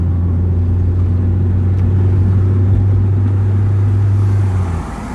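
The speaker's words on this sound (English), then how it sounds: "My muffler was loud." A car engine droning loudly through a loud muffler while driving, a steady low rumble that holds for several seconds before easing off near the end.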